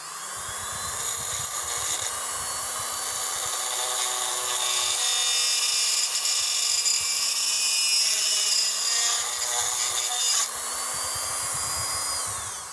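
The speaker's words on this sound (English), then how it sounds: "this is a tapered drill, so I'm just going to drill it a little bit more to make sure the hole's all the way through" A tapered drill bit grinds through glass for a cake stand, a continuous close whirring and rasping with a steady motor tone that slightly shifts pitch as the bit works through, running uninterrupted for the whole stretch.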